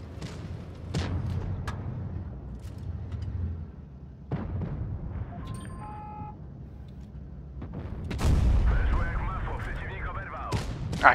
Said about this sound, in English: managed to get a couple of shots out there